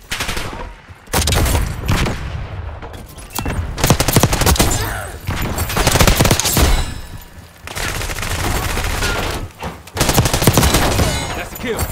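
Loud bursts of automatic gunfire and rapid shots in the video game Call of Duty: Black Ops 6 come in repeated clusters with short gaps between them, close and dense, alongside game effects.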